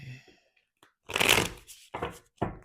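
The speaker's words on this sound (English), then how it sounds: "I need to continue shuffling." Tarot cards are shuffled close up in a quiet room, three brisk riffling bursts separated by short pauses, with faint handling noises before them.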